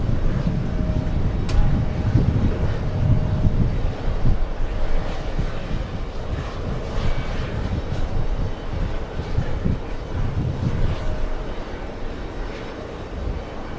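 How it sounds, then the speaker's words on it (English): Emirates Airbus A380 in a colourful livery touching down at JFK, a broad continuous roar of jet engines with low rumbling that rises and falls across the landing, loud and steady. "All right, the A380 touching down."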